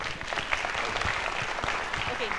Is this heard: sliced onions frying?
no